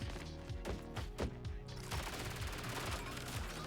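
Rapid automatic SMG fire in the roguelike shooter Oddcore, steady bursts with sharp close reports layered over a dense game soundtrack and effects, no talking.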